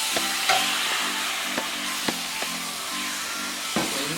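Fajita seasoning mixture sizzling in a Saladmaster pan over medium heat, a steady hissing fry with periodic utensil taps and scrapes, close and alone without speech.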